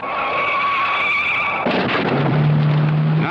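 A car on a drunk-driving test course brakes suddenly: a high tyre screech holds, then breaks into a harsh, loud skid and scrape that ends in a low droning whine.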